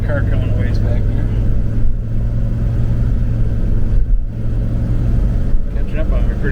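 Car engine hum while accelerating on the road, a steady mid-pitched drone with road noise from inside the cabin and someone talking over it.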